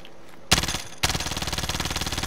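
Automatic weapon fire in the video game Call of Duty: Warzone, a short burst then a longer rapid rattling volley of evenly spaced shots, loud and close, with no talking.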